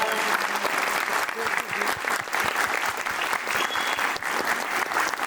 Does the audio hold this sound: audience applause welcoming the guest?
yes